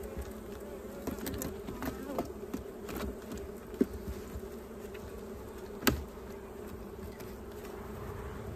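Honeybees from a queenless hive hum in a steady, dense drone, with a few sharper buzzes of single bees passing close over the constant background.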